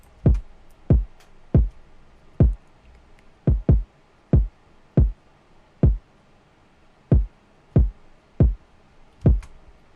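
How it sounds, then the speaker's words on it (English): Hip-hop kick drum pattern for a trap beat, about a dozen punchy, booming low thumps in a syncopated rhythm, some doubled in quick pairs, played alone and loud. "the next thing we're going to be looking at is the kick pattern, which just mirrors the 808 pattern"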